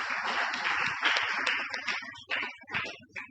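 Scattered clapping from a small audience of students at a university vocational workshop, a handful of hands clapping unevenly and fairly close, with some uneven gaps and uneven loudness across a few seconds.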